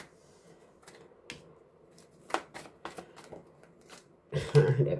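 Tarot cards being shuffled and handled in quick soft riffles and taps, faint and close, with a louder flurry of card noise near the end and some quiet talk around it.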